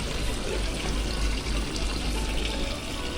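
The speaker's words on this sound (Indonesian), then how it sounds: "Itu netes masih netes dikit." Water running and trickling from a pond filter, a steady broadband wash of liquid close by with no clear separate drips, continuous and fairly loud throughout.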